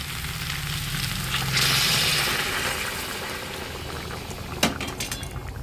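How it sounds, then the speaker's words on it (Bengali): Jackfruit and fish curry sizzling in a hot pan, with a steady frying hiss that swells briefly, then a sharp crackling splash as hot water is poured in. "ইঁচড়টা কষানো হয়ে গেছে, এখন গরম জল দিয়ে দেবো।"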